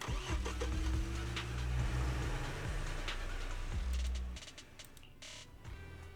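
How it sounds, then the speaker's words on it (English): A truck engine in the video game Zenless Zone Zero cranks and catches, then runs with a low, rough, revving rumble for several seconds before dropping off and leaving quieter game ambience. "Piper, start the truck!"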